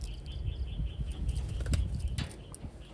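Wantai racing pigeons fitted with GPS flapping their wings, soft close wing flutters and rustles at low level, with faint chirps and handling noise, no talk.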